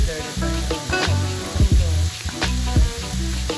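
Seasoned apple pie filling sizzling steadily in a pan, a loud continuous fry with clinks and scrapes of stirring and a low hum running underneath, with no voice heard.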